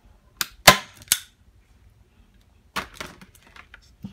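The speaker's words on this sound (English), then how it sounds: "I'm going to use my staple gun and just staple" A staple gun firing staples into a craft piece, with three sharp, loud snaps in quick succession near the start, then a quieter cluster of clicks and handling after a pause.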